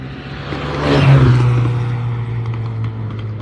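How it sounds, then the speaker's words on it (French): A BMW M4 engine rises in a loud, close rev, swells to a peak and then settles back to a rough, steady idle rumble. "Ah là, la M4 qui se réveille,"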